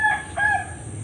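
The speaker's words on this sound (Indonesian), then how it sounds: "Burung ruak-ruak yang sebelah sana sedang berbunyi" White-breasted waterhen calling from beside a fish pond about ten metres off: a brief, fairly faint two-part call over a soft background hiss.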